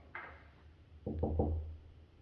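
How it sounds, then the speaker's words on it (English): Three quick, firm knocks on a wooden barn door, close by and evenly spaced, following a brief faint scrape. "You gotta knock on it."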